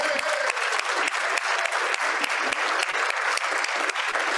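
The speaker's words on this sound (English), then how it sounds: "let's clap for Wayne Carson" Steady, full applause from an audience at a Rotary Club of Fort Worth meeting, with dense overlapping claps that hold at an even loudness throughout.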